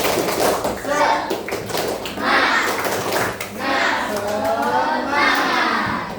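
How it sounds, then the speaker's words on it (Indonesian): Children in an elementary school classroom doing the tepuk semangat rhythmic clap, with loud patterned clapping mixed with energetic chanting and shouting voices in several bursts. "Lagi-lagi, tepuk semangat."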